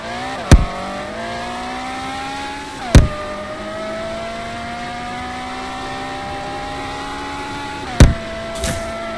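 A car engine in the Roblox racing game Midnight Chasers holds a high, steady rev against the limiter, with a few sharp clicks or bumps cutting in as the pitch dips and recovers.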